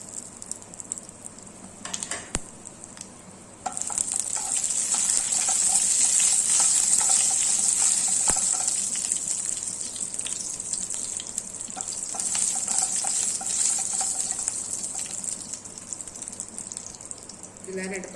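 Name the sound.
whole spices like cinnamon and cloves sizzling in hot oil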